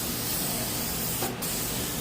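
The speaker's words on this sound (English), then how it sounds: "I'm gonna spray a little bit more of that oil." Cooking oil from an aerosol can sprayed onto a bicycle tire, one continuous close hiss with a brief dip midway.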